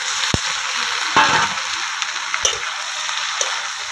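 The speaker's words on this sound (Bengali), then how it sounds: "আমি চিংড়ি মাছটা ভালো করে মশলার সঙ্গে কষিয়ে নিলাম।" Shrimp sautéing with spices in a pan for a village-style potol (pointed gourd) and shrimp curry, a steady close sizzle with a few sharp stir clicks and a brief louder burst of frying partway through.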